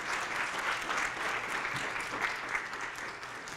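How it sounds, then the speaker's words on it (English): A seated audience applauds the panelists at the close of a panel discussion for a community book-reading event, a dense, steady wash of clapping throughout with no voices over it. "Let's give them a big round of applause."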